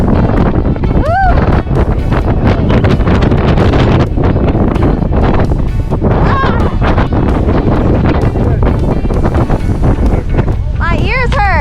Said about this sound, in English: the wind kicked in all of a sudden